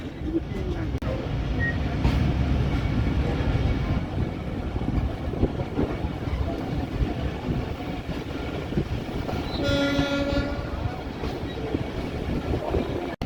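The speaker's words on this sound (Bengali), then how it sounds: "ট্রেন খুবই ধীর গতিতে যাচ্ছে এই মুহূর্তে" The Bhatiyapara Mail, a passenger train on the Rajbari to Bhatiyapara Ghat line, creeps along a restricted section at about 10 km/h. Its rumble and rail rattle hold steady and close, and a brief tonal whine rises near the end.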